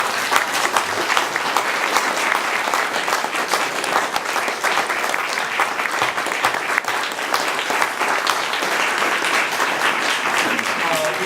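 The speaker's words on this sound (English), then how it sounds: "all of you readers stand up and take a bow," A literary reading audience applauds the readers as they stand and take a bow: full, continuous clapping from a roomful of people, steady and loud from start to finish, with faint voices mixed in.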